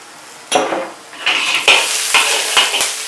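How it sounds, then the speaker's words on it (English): Scallion and dry chili stir-fried in a wok, loud sizzling that bursts in as the ingredients hit the hot pan, followed by repeated scraping strokes of the spatula and steady frying hiss. "Stir fry this item until aromatic."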